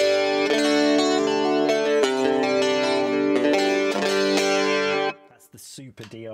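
An electric guitar plays a clean Rockman-style tone through an HX Stomp with the cabinet IR turned off: sustained, bright, dry chords ring loud and steady for about five seconds, then fade into quieter decaying notes.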